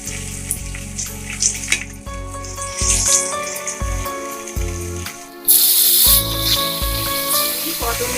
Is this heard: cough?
no